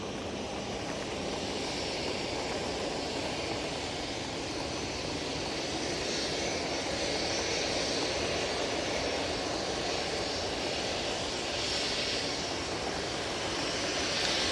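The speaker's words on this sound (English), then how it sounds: "That's a great landing there from the Lufty crew." Lufthansa airliner landing during a storm at Manchester Airport, heard as a steady, fairly distant roar of jet engines and rushing wind that holds evenly throughout, faint overall, with no talking.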